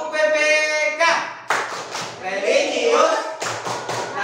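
A primary school class performs a rhythmic clapping chant, with sharp patterned claps and taps in short bursts, mixed with children's voices chanting along nearby.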